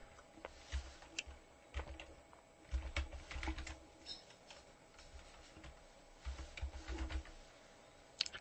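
Steady typing on a computer keyboard to write a bulletin board post, with bursts of key clicks and pauses between them, close and quiet.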